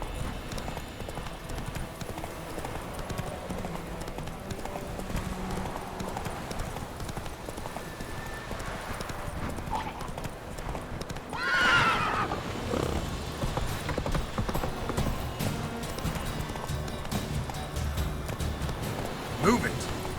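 Horse in The Witcher 3 galloping with rhythmic hoof clip-clops, then a sharp neigh partway through, followed by continued hoofbeats under game music and a rider's voice.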